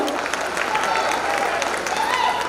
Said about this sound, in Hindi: ताली बजाओ एक बार मेरे प्यारों